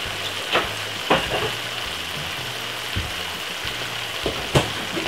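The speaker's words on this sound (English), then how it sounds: "And I'm gonna give it a lovely stir." Jamaican-style stir-fried BBQ cabbage with sweet chili sauce sizzling in a pan, a steady frying hiss broken by a few soft scrapes as it is stirred, close and without talk.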